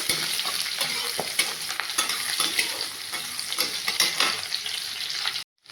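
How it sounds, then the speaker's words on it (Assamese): Onions frying in a pan as they are stirred, with a dense crackling sizzle and repeated scraping strokes that stop abruptly near the end. "এতিয়া আমি পিঁয়াজ দি দিওঁ। এতিয়া আমি অকণমান লৰাই লৈছোঁ।"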